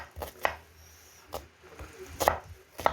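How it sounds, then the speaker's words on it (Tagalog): Quick knife strokes chop vegetables on a board while radish kimchi and pickled radish are being prepared, a handful of sharp, close taps in an uneven, rapid rhythm with quiet kitchen ambience between. "Ang bilis niya mag-slice, no?"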